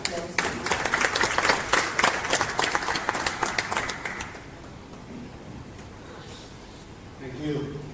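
An audience applauds a government minister introduced as chief guest at a formal Bangladesh–India trade ceremony, with dense clapping for about four seconds that then fades out, leaving quiet room tone.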